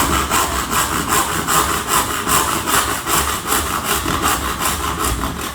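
A tenon saw cuts out the waste of a dovetail joint in wood, making steady rhythmic rasping strokes about two per second, close and loud, with no talking.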